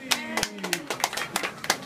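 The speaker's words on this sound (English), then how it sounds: "round of applause," A few people clapping at a child's ninth birthday celebration, sparse separate claps in a loose rhythm with a voice speaking over them, close and moderately loud.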